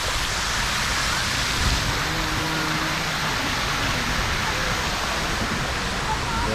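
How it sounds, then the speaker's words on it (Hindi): Chitrakoot waterfall throws a dense, continuous hiss of falling water and spray close by, steady and loud throughout, with only faint voices mixed in. "ये एक वाटरफॉल बनता हुआ और हल्की हल्की वाटरफॉल की जो ये बूंदे हैं वो भी हम तक पड़ रही हैं"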